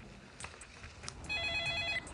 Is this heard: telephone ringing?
yes